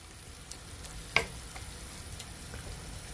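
Escovitch fish sauce boiling uncovered in a pot on a stovetop, a quiet steady bubbling and sizzling hiss with one brief sharper pop near the middle and no talking.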